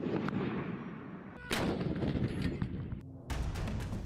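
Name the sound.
artillery fire in Chinese live fire drill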